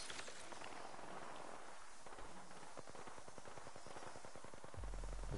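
Rapid gunfire in the game Apex Legends, a fast train of regular shots that rattles through the middle of the clip, followed by a heavy low thump at the end.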